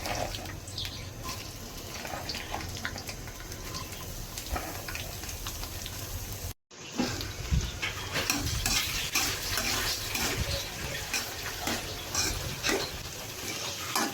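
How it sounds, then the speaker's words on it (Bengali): Beef nihari cooking with onions and dried chilies being stirred in a pan: steady scraping stir strokes over a continuous sizzle, close and fairly loud, with a brief break midway and no talking. "আমি একটু নেড়ে দিচ্ছি"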